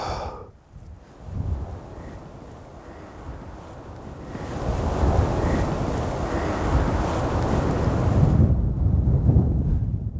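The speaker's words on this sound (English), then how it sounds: "It's still super windy and it's quite cold." Strong wind blows outdoors in rural Andalusia, Spain, roaring and buffeting the microphone in a continuous rush that grows louder midway, with no talking.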